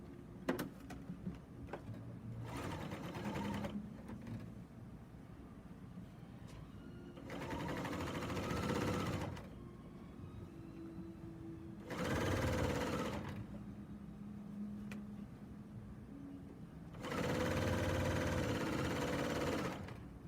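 A serger sewing machine stitching binding onto a quilt runs in four separate bursts of steady whirring hum, separated by quieter pauses with light handling noises.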